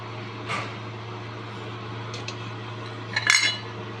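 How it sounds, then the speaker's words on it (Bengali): A lid goes onto a pan while chitoi pitha cooks, with a light clink near the start and a louder metallic clatter near the end over a steady low hum. "এখন আমি ঢেকে দিলাম।"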